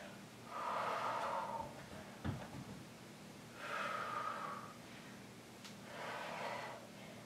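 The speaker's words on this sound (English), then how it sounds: "We're gonna exhale as we round our back up. Inhale as we arch it." Slow breaths during a prenatal back stretch: three long, airy exhales spaced a few seconds apart with quieter inhales between, close and soft, plus a brief sharp sniff in the middle.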